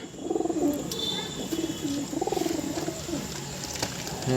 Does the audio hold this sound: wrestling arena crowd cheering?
no